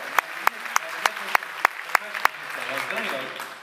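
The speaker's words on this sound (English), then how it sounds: "How about a round of applause for Katie?" A handful of sharp, evenly spaced claps ring out in a high school spring instrumental concert hall, about eight in steady rhythm, before giving way to a soft murmur of voices.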